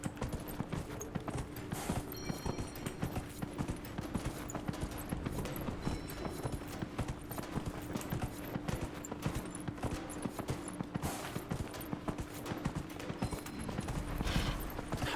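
Horse hooves clip-clop in a quick, steady rhythm while riding in Dragon Age: Inquisition, with mechanical creaks and clanks underneath and no talk.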